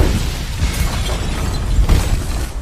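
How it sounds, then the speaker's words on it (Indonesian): Heated materials explode in a film scene: a loud, dense blast with a roaring, crackling rumble that swells again partway through, heavy low end and no voices. "Dan benar saja ketika bahan-bahan tadi dimasukkan dalam suhu yang panas seketika menjadi meledak."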